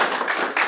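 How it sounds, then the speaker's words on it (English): An audience at a NAIDOC Week presentation gives a warm round of applause, a steady dense wash of many hands clapping, close and loud throughout the short burst. "can we give Des a warm round of applause for his presentation today?"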